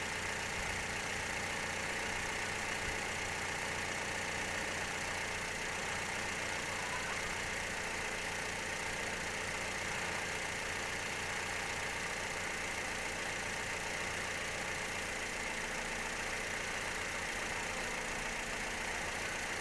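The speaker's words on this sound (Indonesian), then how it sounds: "Sambil menunggu mesin panas, suara mesin terdengar makin halus ya" A Toyota Vios engine idles steadily while warming up, a constant low rumble with a faint mechanical hum and no voices.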